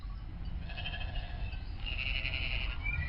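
Sheep bleating in a pastoral drama scene set in Canaan, a few drawn-out bleats over a steady low rumble of background noise, moderately close.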